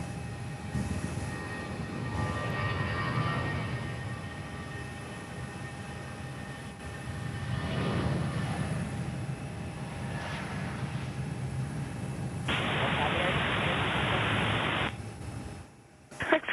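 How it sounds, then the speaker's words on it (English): Virgin Airbus A320 accelerating on its takeoff roll at Perth Airport: a steady, broad jet-engine roar that swells and holds at moderate distance for the full stretch, with no voices. "And another Virgin aircraft is on the roll this morning."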